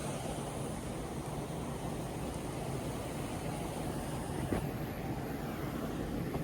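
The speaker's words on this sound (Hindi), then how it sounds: "और नीचे से आपको नदी की आवाज़ आ रही होगी," A river flows below a jungle campsite at night, heard as a steady, soft, distant rushing wash that lasts the whole stretch, with one faint knock partway through and no talking.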